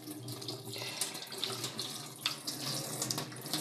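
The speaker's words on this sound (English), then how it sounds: "get this leaf, wash it very well," Tap water runs steadily into a sink while a handful of leaves are washed under it, a close, continuous splashing hiss with small irregular surges and no talk.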